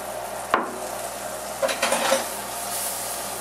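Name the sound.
butter and garlic sizzling in a frying pan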